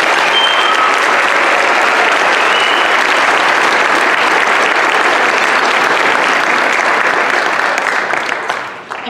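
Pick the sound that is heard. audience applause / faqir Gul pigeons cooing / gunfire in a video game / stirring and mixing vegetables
audience applause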